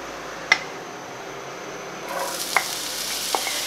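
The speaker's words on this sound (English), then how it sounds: "So gently fry the chopped onions." Chopped onions frying gently in a pan: a soft sizzle rises after a quiet start, with a few sharp clinks of a utensil scattered through; close, no voices.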